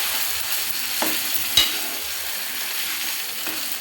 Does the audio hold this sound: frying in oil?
yes